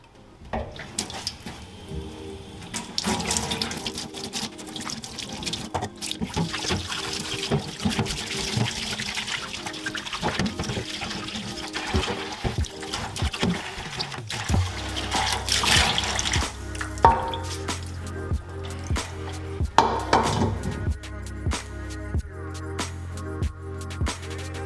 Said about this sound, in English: I'm going to wash this up in the sink with just some water